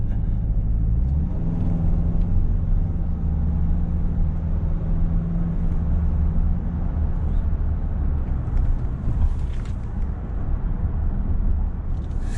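A diesel minivan accelerates hard from a standstill, its engine giving a steady, loud low rumble with road noise that builds and holds throughout.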